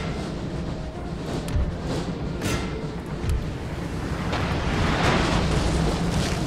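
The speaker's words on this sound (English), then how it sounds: "Cannon battery." A cannon battery fires in the video game Napoleon: Total War, a series of heavy booms and rumbling blasts over several seconds, building into a loud dense roar toward the end, with no voices.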